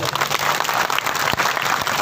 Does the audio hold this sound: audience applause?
yes